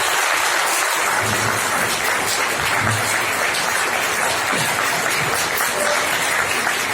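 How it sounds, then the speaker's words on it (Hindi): Steady, loud applause from an audience welcoming a guest at a public event marking Mahatma Phule Jayanti, a dense unbroken wash of clapping that fills the whole span with no voices. "मुरुगन जी के लिए बहुत तालियों की बौछार में उनका स्वागत है।"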